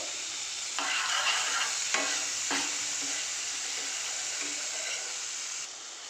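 Okra fries in a pan with green chili and tomato, giving a constant close sizzle while a utensil stirs and scrapes through it in a few distinct strokes.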